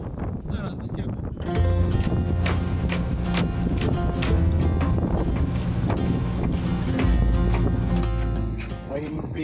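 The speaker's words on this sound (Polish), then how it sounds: "No a wiatr nam rośnie, tylko rośnie." Strong wind blows over a sailing boat near Paros in Greece in November as it nears port. The gusts are loud and roaring, buffeting the microphone steadily over the sound of the sea, and a voice talks through it.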